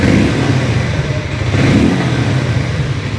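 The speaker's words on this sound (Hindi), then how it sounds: "मैं आपको एग्जॉस्ट नोट सुना देता हूँ।" A warmed-up 2024 Harley-Davidson X440 motorcycle sits idling and revving, its exhaust note loud and close, a steady throaty rumble that swells slightly midway without speech.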